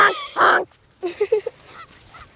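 A group of geese honking close by: a couple of loud, harsh calls, then a rapid series of shorter honks and fainter calls trailing off.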